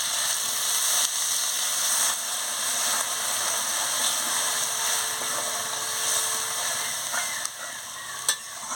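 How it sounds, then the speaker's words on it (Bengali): Water goes into a cucumber and potato curry already fried down in a pan, giving a steady, fairly loud sizzling hiss with a few soft clinks near the end and no talking. "এবার আমি জলটা দিয়ে দিচ্ছি।"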